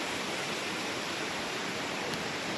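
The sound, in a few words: brook flowing in Victoria Park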